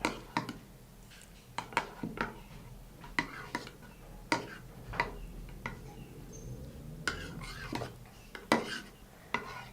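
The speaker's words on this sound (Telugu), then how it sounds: "ఇప్పుడు ఇందులో మనం సబ్జా గింజలు, లెమన్ జ్యూస్ అండ్ తేనె, ఈ 3 ఇంగ్రీడియంట్స్ని మనం బాగా మిక్స్ చేసుకోవాలి" A spoon stirring basil seeds with lemon juice and honey in a cup, repeated sharp clinks and scraping taps at an irregular rhythm, close up and alone.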